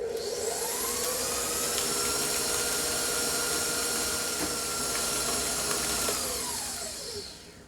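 An electric mixer beats an egg into gluten-free snickerdoodle cookie dough, giving a steady, loud whirring hum that runs unbroken for several seconds, then winds down at the end.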